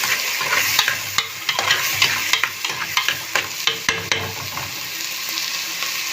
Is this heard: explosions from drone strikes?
no